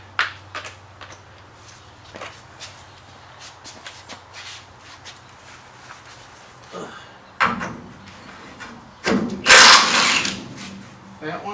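Rear-end work on a car: a nut being worked loose and removed, heard as scattered metallic clicks and shuffling handling noises building to a louder clattering burst near the end, close by.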